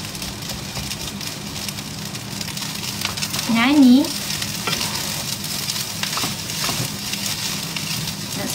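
Sardines frying in hot oil, a steady spattering sizzle running throughout, with a brief sung phrase from a voice in the middle and light clatter around it.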